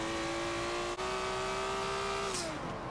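Ferrari 330 P4 racing car in the Forza video game, its engine holding a steady high drone with a brief gear-change dip, then pitch dropping as it lifts off near the end; loud and close, no talk.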